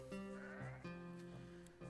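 Sheep bleating in the farming video game Town Star: several wavering, nasal bleats follow one another closely over a low musical background, fairly loud and with no talk.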